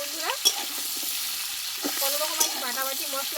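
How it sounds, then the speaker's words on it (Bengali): Vegetables for a five-vegetable curry are stirred in a frying pan: a continuous hiss of frying with a couple of sharp spoon clacks against the pan, while a faint tonal voice-like sound drifts in the background. "ভালোভাবে নাড়াচাড়া করে"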